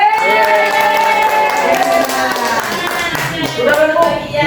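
Children in an elementary school classroom clap together in a quick, rhythmic burst of hand claps, with voices and a teacher's talk running underneath.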